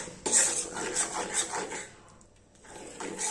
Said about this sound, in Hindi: लगातार चलाते हुए बेसन को अच्छे तरीके से भुनिए